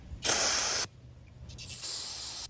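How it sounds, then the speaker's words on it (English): Two sharp bursts of aerosol brake cleaner hiss close by onto a rusty part of a 2001-04 Kia Rio, the first about half a second long, the second longer, with a brief quiet gap between. "we're going to start off by spraying some brake clean on it"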